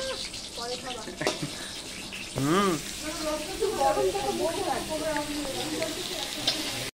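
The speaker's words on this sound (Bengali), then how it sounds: "গরম গরম পটল ভাজা" Pointed gourd frying in a very large wok gives a steady, moderate sizzle, close by, with voices talking over it throughout.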